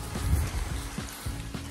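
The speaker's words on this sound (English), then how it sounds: "Rainy, rainy, rainy." Steady rain patters on a muddy trail during a long-distance walk, a soft continuous hiss with faint low thuds that may be footsteps in the mud, heard close and moderately quiet with no talking.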